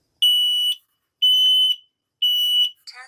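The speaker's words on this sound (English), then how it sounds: "The alarm will sound loudly." An X-Sense XP02-AR hardwired smoke detector sounds its alarm during a test: three loud, piercing shrill beeps, each about half a second long, spaced evenly and close up, followed by a brief electronic chirp at the end.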